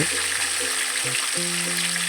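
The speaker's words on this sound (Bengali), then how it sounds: "এদিকে দেখো মাছটা তো ভাজা হচ্ছে" Rohu fish sizzles in a pan with a steady, dense hiss of hot oil, while faint sustained tones hum underneath.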